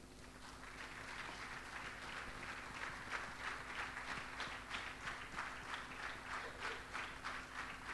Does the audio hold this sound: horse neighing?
no